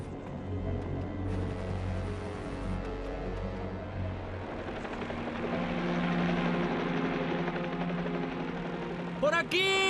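Helicopter hovering over the Kilauea volcano area during a rescue, a steady rotor and engine drone close and loud for the whole stretch, with no clear talk.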